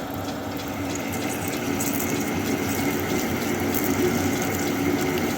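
Water runs steadily during wet cutting of metal parts for a handmade custom bike, a continuous gushing, pump-like wash with faint mechanical rattling underneath, loud and close, with no talking.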